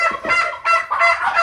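Tom turkeys on a small farm call out in four short, loud, honking bursts in quick succession, close by and alone, with no talk over them.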